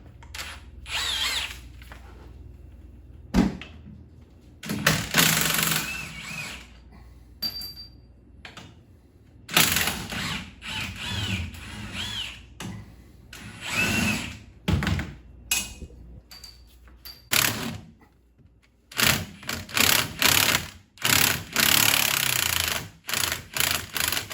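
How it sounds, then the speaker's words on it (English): Power tool, likely an impact gun, spinning out 15 mm strut bolts from the control arm of a 2015-2020 GM truck with Magnaride struts, in repeated loud close bursts of whirring and hammering separated by short pauses. "They're 15 millimeter, so I'm going to go ahead and take those bolts out now."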